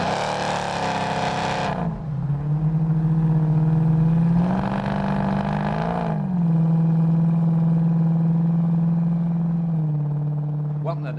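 A 1967 Camaro built by SpeedKore, owned by Chris Evans, driving with a steady, close engine drone. Two loud bursts of revving roar rise and fall against the drone.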